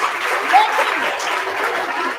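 Students clapping together at a college induction meeting, a steady wash of applause filling the whole clip at moderate loudness, with a faint voice briefly audible over it.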